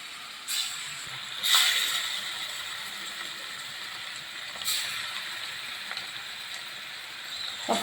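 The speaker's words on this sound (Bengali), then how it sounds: "বাটার আর সরষের তেল গরম হয়ে গেছে, তো আমি ম্যারিনেট করা মাছগুলো হালকা করে এপিট উপিট হালকা করে একটু ভেজে নেব" Marinated hilsa fish pieces frying lightly in hot butter and mustard oil, a steady close sizzling hiss with brief louder spits and crackles now and then, no voices.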